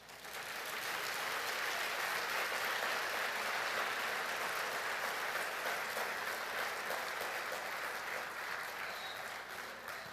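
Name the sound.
congregation applause for Jesus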